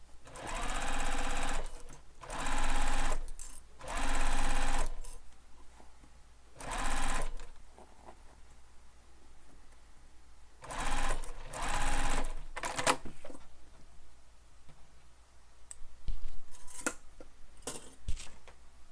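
A sewing machine stitches the panels of a crossbody bag, running in several short, loud bursts separated by pauses, with light handling noises between runs.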